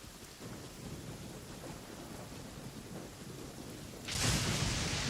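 Rain and thunder in the game Genshin Impact, a steady rumbling downpour with a low rolling thunder bed, swelling into a louder burst of rain near the end.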